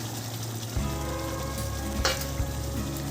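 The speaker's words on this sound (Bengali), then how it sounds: "এবার আমি মেটেটা এর মধ্যে দিয়ে দিচ্ছি" Chicken liver and giblets sizzle steadily in a hot pan with spiced potatoes, a close, constant crackling hiss broken by a few scraping stirs.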